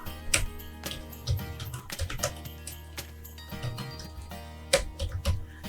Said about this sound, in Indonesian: Saya akan mengetik sembarangan ya.